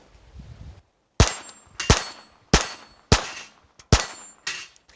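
Six sharp .22 LR Super Extra shots from a Glock 44 ring out at a steady pace outdoors. Each crack is followed by a metallic ringing clang from a steel target, heard fairly close.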